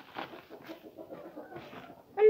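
A hen clucks softly in a quick, repeated series, fairly quiet, before a sudden louder sound at the very end.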